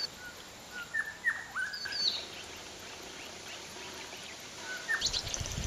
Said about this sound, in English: The musically inclined grey shrike thrush returns to spend the cooler months with